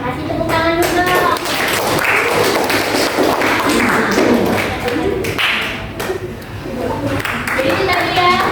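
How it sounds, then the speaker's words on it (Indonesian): Classroom applause from a group of students, loud close clapping that carries on steadily for several seconds and then fades out, with children's voices mixed in. "tepuk tangan dulu"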